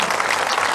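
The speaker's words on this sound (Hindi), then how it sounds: "ऊपर करके जोर से ताली बजाएंगे" Loud, dense clapping from a seminar audience in a hall in Dehradun, hands raised overhead, a brief steady burst filling the room.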